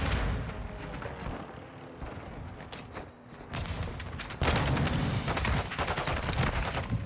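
Gunfire rattles in a Call of Duty Modern Warfare 2 match, bursts of sharp shots repeating over a busy game soundscape, fairly quiet overall with no talk.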